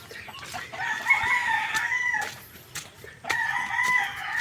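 A rooster crows twice on a small farm among other chickens, loud and close, with clucks and scattered clicks between the calls and no talking.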